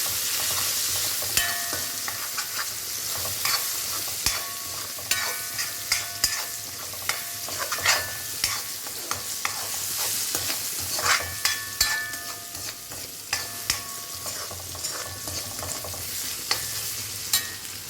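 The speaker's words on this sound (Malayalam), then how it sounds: "നന്നായിട്ടൊന്ന് ഇളക്കി കൊടുക്കാം." Onions and garlic frying in a pan, a constant sizzle broken by repeated sharp scrapes and clacks of a spoon stirring, close and fairly loud.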